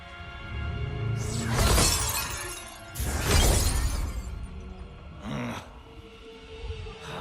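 Glass shatters in a video game in two big crashing bursts about a second and a half apart, each a loud spray of breaking shards, followed by a smaller crack and tinkling debris.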